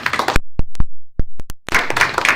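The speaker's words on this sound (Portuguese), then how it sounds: "queria pedir uma salva de palmas aqui para o Luís" Scattered applause from a breakfast networking audience at Ávila Spaces, a dense burst of clapping at the start, a few isolated claps in between, then a fuller round of applause to the end.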